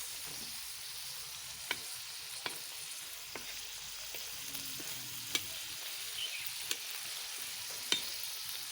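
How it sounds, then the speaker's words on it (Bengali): Rupchanda fish paturi wrapped in bottle gourd leaves frying on a clay stove, a steady soft sizzle with a few sharp pops and crackles scattered throughout, close and fairly quiet, with no voices. "ফ্রাই দিচ্ছি"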